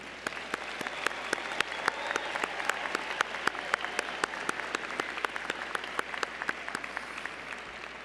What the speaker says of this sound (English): With a round of applause, congratulations again to you, our newest alumni.